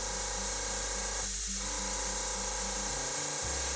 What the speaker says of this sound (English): So I'm going to start turning my airbrush away.